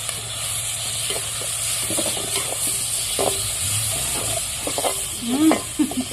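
Onion and curry leaves frying in a pan over a wood-fired stove, a steady sizzle and hiss with occasional stirring scrapes and small pops, close and moderately loud, with faint background voices.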